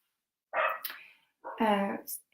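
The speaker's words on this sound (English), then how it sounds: "True fashion, the dogs are going mental here today." A dog next door barks in two loud bursts of rapid, layered yaps, close and sharp after a moment of quiet.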